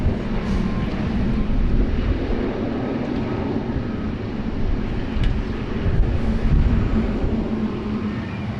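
Gusty wind at Sydney Airport: a steady, loud roar of breeze buffeting the microphone, with low rumbling surges throughout and no talking.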